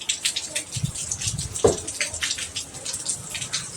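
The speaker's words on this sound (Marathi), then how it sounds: "पाणी टाकून घ्या थोडं छान हलवून घ्यायचं" Water splashes into fenugreek leaf curry frying in a pan, a brief noisy pour with a sharper splash in the middle, heard close and alone without talk.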